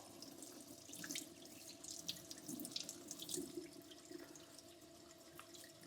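A lobster tail is rinsed under a running cold kitchen tap, with steady splashing water and scattered drips close by in a sink, heard alone.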